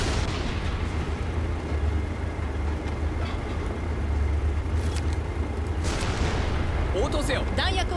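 A tank in Panzer Knights rolls backward, its engine rumbling low and constant while the main cannon fires several heavy booms near the end, and a crew voice speaks briefly over the noise.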